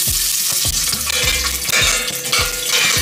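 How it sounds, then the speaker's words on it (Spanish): Green chilies fry in oil in a pot, a loud close sizzle broken by repeated rhythmic scraping strokes of a utensil stirring them around. "Yo le voy a poner unos chilitos verdes para dorarlos."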